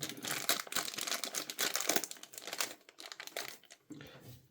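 Hands tearing open the plastic packaging of a Takara Tomy Beyblade X CX-01 Dran Brave spinning top, a busy stretch of close crinkling and crackling plastic that eases off toward the end.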